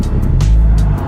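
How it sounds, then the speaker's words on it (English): A manual transmission car engine revs once with a press of the gas, a loud, close, low rumbling swell lasting about a second with no speech. "You can hear the rev."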